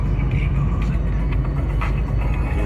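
A car that sat in a field for four years now driving on the road, a loud continuous low rumble of engine and tyres heard from inside the cabin, with no talk.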